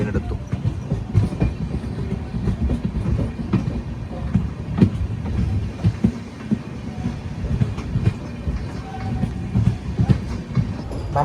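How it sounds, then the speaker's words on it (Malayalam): The Mangala train runs on the Konkan railway with a loud, steady rumble, broken by repeated clickety-clack wheel beats and rail knocks across the whole stretch. "അങ്ങനെ അവിടെ നിന്നും ട്രെയിൻ എടുത്തു."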